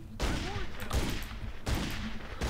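Tommy gun fire in The Godfather II video game, loud rattling bursts separated by short gaps, about four volleys over a couple of seconds, with no voices over them.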